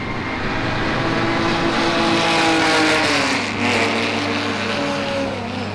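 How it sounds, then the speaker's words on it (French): Vintage 1950s race cars at the Le Castellet circuit in France: a steady, loud engine drone with rising and falling pitch as the cars pass, with no talking. "alors ça c'est des véhicules des années 50"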